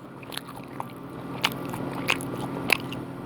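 Crisp crunchy bites into a crispy fried chicken burger, with several sharp crackling crunches spaced about a second apart over quiet background chewing.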